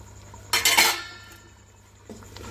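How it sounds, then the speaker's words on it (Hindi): Three tomatoes going into a pot of mutton nihari, heard as a short, sharp metallic clatter of utensil against the pot, then a fainter knock a moment later. "अब हम इसमें टमाटर डाल लेंगे।"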